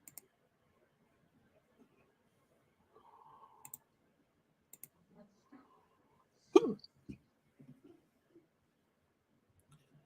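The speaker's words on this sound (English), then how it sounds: "these hiccups" Hiccups come from a man sorting Lego minifigures, sounding as a few short, abrupt throat pops, one louder near the middle, among faint clicks in an otherwise quiet room.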